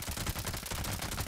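Weapon gunfire from the video game Fallout 76 sounds as a rapid burst of loud shots in quick repeated succession, packed tightly across a moment.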